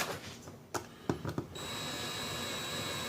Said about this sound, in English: pull out the drill gun. Let's get this done real quick.